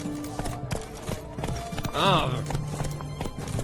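Horse hooves clip-clopping in The Witcher 3, a quick, uneven run of close hoofbeats with a whinny-like sweep partway through, while someone speaks briefly.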